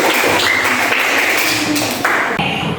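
Classroom applause for a student group that summarized a lesson, steady and fairly loud throughout, with dense overlapping claps and some classroom noise over it.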